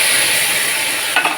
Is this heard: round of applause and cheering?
no